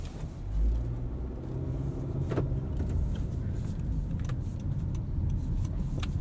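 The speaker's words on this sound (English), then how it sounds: "All right, let's take this for a drive." A 2023 Honda CR-V EX-L AWD drives along, its low engine and road rumble steady from inside the cabin, with a few small clicks and rattles and no talk.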